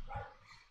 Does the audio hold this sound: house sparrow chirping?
no